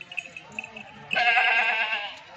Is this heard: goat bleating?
yes